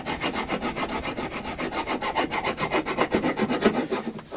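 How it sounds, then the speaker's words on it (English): A blade scrapes along the wooden neck of an Indian Encore AristoCat Strat guitar in rapid, even strokes, about five per second, close and steady, with no one talking. "this is making this particular bit easier to scrape with a blade"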